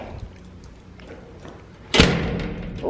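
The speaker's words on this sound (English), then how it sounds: "let me close this door real quick." A door in a house in Mexico is pushed shut, a single solid thud near the end after a stretch of quiet room tone with a few soft shuffles.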